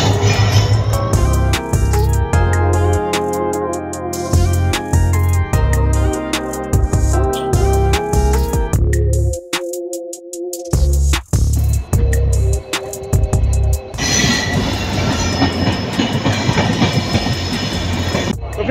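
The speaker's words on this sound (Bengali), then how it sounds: "ফাইনালি কিন্তু ট্রেন কুচবিহার স্টেশনে চলে আসছে।" The Siliguri Intercity Express pulls into Cooch Behar station with loud, close rhythmic wheel clatter and rumble. A sustained tonal whine or horn sounds midway before the heavy clacking resumes.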